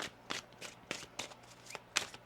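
Tarot cards are shuffled up close, quiet riffling bursts repeating in a loose rhythm of about six quick shuffles.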